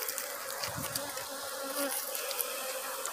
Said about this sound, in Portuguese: então aí agora nós vamos colocar as abelhas lá dentro